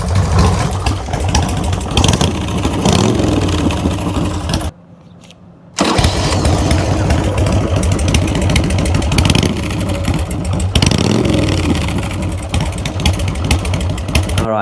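A Harley-Davidson Sportster chopper engine runs loud and close at a lumpy idle after a timing adjustment, cutting out briefly for about a second before firing back up and loping on.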